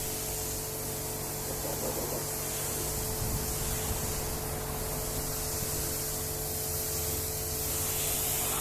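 Pressure-washer spray rinses a protective coating off the paintwork of a Mercedes E220d, a loud, continuous hiss that holds steady throughout with no voices.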